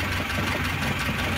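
A car engine idles steadily with a rapid, even mechanical knock from a worn camshaft running through it, close and loud with no voices.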